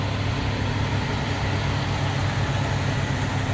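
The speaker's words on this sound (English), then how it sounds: "talking over loud-ass trucks moving behind me" Trucks move near a Walmart, giving a continuous low engine rumble and drone at steady loudness with no breaks and no talk.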